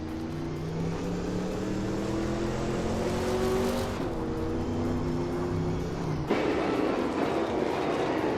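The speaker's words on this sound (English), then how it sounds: "Amy's car is a 1957 Chevrolet Bel Air, just like everyone else's here." Several 1957 Chevrolet Bel Air race cars roar steadily past in a racing game, their engine drone continuous and loud with shifting pitch as they change gears.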